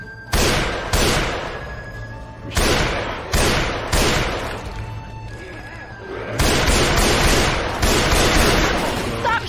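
Loud, heavy gunfire from the video game Left 4 Dead 2, a few booming blasts in a row, each followed by a brief rolling tail, ending in a long sustained burst of shooting.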